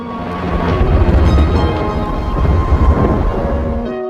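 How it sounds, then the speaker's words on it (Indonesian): A storm with thunder in the TV series Z Nation: a loud, deep, rolling rumble of thunder with a broad wash of noise that swells and lingers for several seconds. "Tenke dan Cassandra yang tidak sempat kabur saat badai datang berlindung di dalam mobil."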